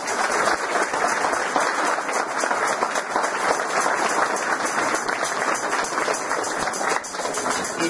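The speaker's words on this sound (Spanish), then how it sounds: "Los niños, démosle un aplauso a los angelitos." Steady audience applause fills a school Corpus Christi celebration, honoring children dressed as angels; dense, continuous clapping from a crowd, fairly close, with little talk over it.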